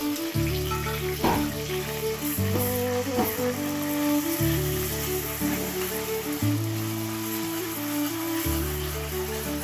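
Ginger garlic paste and onion with green chillies frying in hot oil, a steady close sizzle under a looping music bed.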